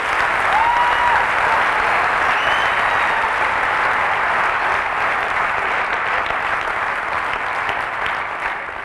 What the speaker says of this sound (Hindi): एक जोरदार तालियां आपके लिए भी होनी चाहिए।